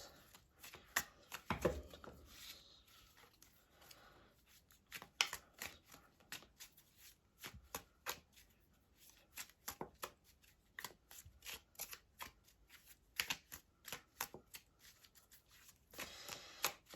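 Tarot cards shuffled by hand in a quiet room, a long run of soft riffling and sharp card slaps in irregular bursts, with nobody speaking.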